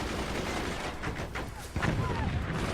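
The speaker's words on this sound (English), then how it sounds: "There's another swarm missile coming." Swarm missiles strike in the strategy game Forts with rapid bursts of blasts and crackling impacts, ending in a heavier thump near the end.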